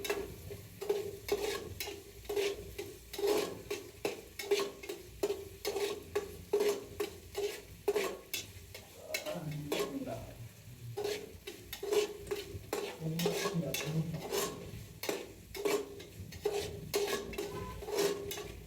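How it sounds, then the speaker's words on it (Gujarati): Potatoes and onions fry in oil while a utensil stirs and scrapes the pan in steady, repeated strokes, with faint sizzling throughout and no talk. "બટાકા ડુંગળી તો તેલમાં ચડી જાય"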